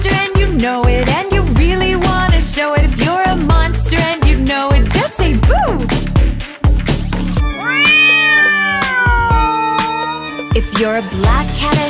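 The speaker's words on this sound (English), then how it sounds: "If you're a black cat and you know it, just say meow." Cat meows in a Halloween nursery rhyme, sung and stylized over bouncy children's music, a run of rhythmic meow-like calls followed by a drawn-out wavering meow, loud and close.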